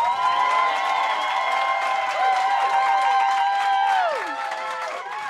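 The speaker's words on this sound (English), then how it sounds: "If you're voting for Katie, clap your hands." Comedy roast audience clapping and cheering to vote for a contestant, a dense, loud crowd roar with whistles and whoops running steadily throughout, easing slightly near the end.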